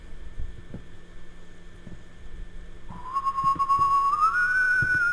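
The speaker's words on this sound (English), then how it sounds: "He's got a very distinct whistle going on now, so you can tell when he's close by." A janitor whistling in the horror video game White Day: after a quiet stretch of low hum and soft thuds, a clear tonal whistle enters partway through, sliding upward and holding a steady pitch to the end.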